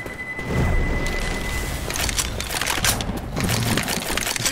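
A grenade blast in Left 4 Dead 2 lands as a broad, loud boom that rolls on as continuous rumbling noise, with crackling debris and scattered impacts layered over it for several seconds.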